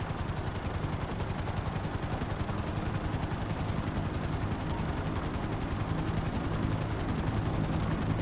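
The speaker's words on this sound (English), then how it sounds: "So I use a helicopter." Helicopter in the video game GTA 5, a steady dense rotor and engine roar that stays loud and close throughout with a constant chopping texture and no speech.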